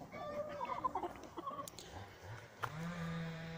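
A large young hen makes soft clucks and brief calls close by in a quiet setting, followed by a low, drawn-out murmur.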